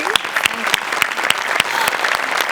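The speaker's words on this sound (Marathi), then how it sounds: "जोरदार टाळ्या" A studio audience at a Marathi comedy show claps loudly and steadily after a performance, a dense burst of applause with sharp individual claps throughout.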